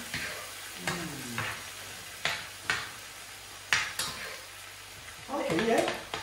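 Food being mixed in a pan gives repeated short scraping and clattering strokes over a low sizzle, close and moderately loud, with brief bursts of activity between pauses.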